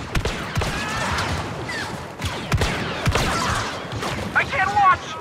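Blaster fire crackles in Star Wars Battlefront as a rapid volley of sharp bursts comes and goes over game effects, with voices and chatter underneath.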